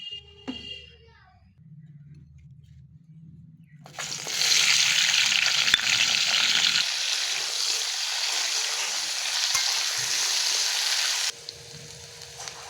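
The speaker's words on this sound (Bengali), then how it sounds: "আলুটা ভাজা হয়ে গেছে" Potatoes frying in hot mustard oil give a steady, loud hissing sizzle that begins after a few seconds of quiet kitchen sounds and runs unbroken for about seven seconds, then drops off.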